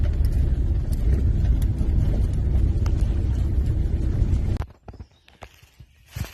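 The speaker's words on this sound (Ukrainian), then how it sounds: "навіть вам покажу, як ми їдемо по лісовій дорозі" A car rolls along a forest road with a steady low rumble and crunching of tyres, loud and close, before it stops abruptly and only faint knocks remain.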